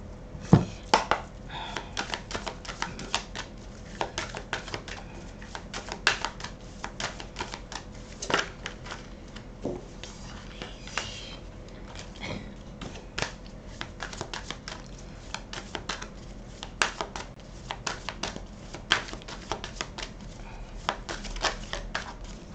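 Tarot cards shuffled and handled, a long run of crisp dry clicks and papery flicks in an uneven, busy rhythm, close and fairly quiet with no voices.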